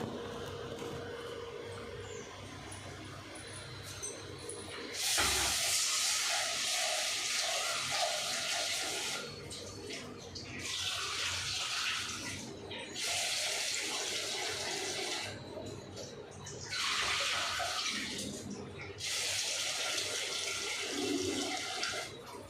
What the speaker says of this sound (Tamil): இப்போ இதை நான் கழுவிட்டு ஊற வைக்கிறேன்